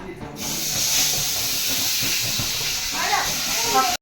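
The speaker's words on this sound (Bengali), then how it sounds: "তো চলো এখন ভাজি মাছটা।" Parshe fish fries in hot oil with a loud, continuous sizzle and spitting hiss that starts abruptly. A voice talks briefly under it.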